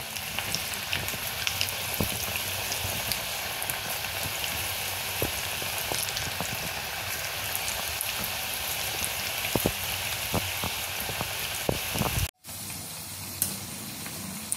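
Onion and crab bhaji fritters fry in hot oil, a dense, steady sizzle and crackle close by with scattered pops, continuing for a long stretch before a brief break.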